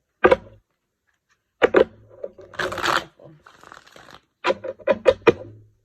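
Tarot cards are riffled and shuffled in several quick bursts of crisp flutter and slapping, close by, separated by short pauses, with a person talking softly between them.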